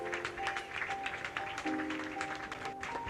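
Applause from an audience paying tribute to a child, a steady patter of clapping at moderate distance with a faint background tone.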